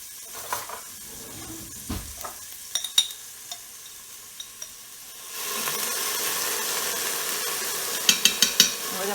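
Garlic hitting a hot pot with turkey necks, sizzling while a spoon stirs, with a few scraping clinks early on and a louder, steady sizzle taking over in the second half.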